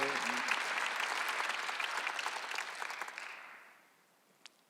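Applause from a church congregation during a Sunday worship service, a dense sustained clapping that fills the room for about three seconds, then thins out and fades to near silence, with one last isolated clap near the end.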